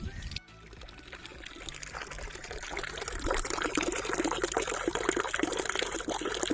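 Irrigation water pours onto a farm field in a steady, loud rushing stream that swells after a brief dip near the start and stays full and close to the end, with no voices.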